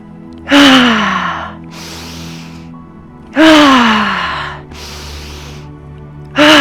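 Deep, forceful inhales during a yoga breathing exercise for releasing emotion, each sharp rising gasp followed by a long breathy exhale, repeated three times close to the microphone.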